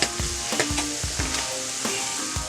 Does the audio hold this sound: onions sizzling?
yes